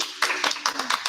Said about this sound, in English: So just a little applause.